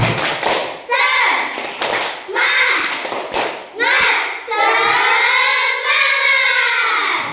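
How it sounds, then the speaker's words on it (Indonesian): Schoolchildren in a classroom perform the rhythmic 'tepuk semangat' spirit clap, sharp bursts of hand claps and taps alternating with loud chanted young voices in unison across the whole stretch. "Ya, ulang lagi. Tepuk semangat."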